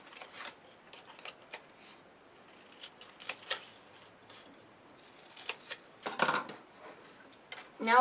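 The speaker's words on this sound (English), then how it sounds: "I'm going to cut this piece off" Scissors snipping a piece off a cardboard Valentine's Day candy box, a series of faint, close crisp cuts and paper rustles spaced irregularly, ending with a louder crunchy snip.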